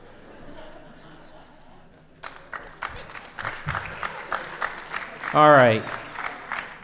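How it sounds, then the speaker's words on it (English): Pageant audience in a school auditorium applauding with scattered claps that swell into fuller applause, with light laughter and a brief spoken remark over the clapping. "You're just clapping because you want me to stop."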